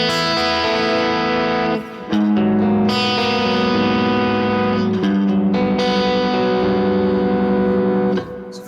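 Electric guitar run through a compressor at its default setting, sustained chords and notes ringing evenly and loud with effects-unit coloring and a little reverb, a brief drop near two seconds, no talking.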